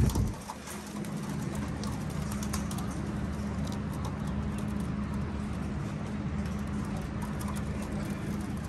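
Pigeons kept on a rooftop coo in low, soft, continuous murmurs, several birds overlapping near and steady, with faint background hum and no talking.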